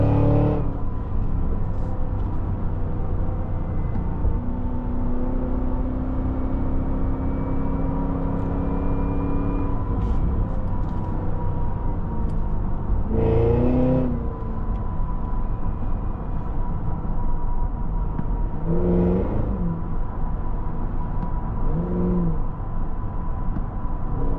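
A 2026 Cadillac Escalade-V pulls away under throttle, a steady low engine drone and road hum running throughout with a couple of brief louder surges, heard from inside the cabin with no talking.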